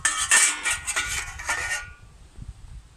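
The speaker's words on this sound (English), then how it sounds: "Dutch mess kit should fit perfectly on." A metal Dutch mess kit pan clanks and scrapes as it is set onto a camp fire, a quick cluster of bright metallic knocks that fades into quiet crackling.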